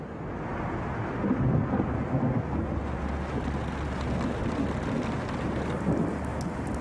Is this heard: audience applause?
no